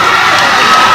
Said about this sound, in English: Big cheer as Southwestern gets the plaque and then comes over to those fans who run out onto the floor